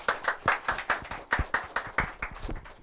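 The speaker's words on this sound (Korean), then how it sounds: "박수 한번 부탁드릴게요." A small audience at a youth conference Q&A in Busan claps in a loose, uneven rhythm, with distinct individual hand claps about every quarter second for roughly three seconds, fairly close and moderately loud.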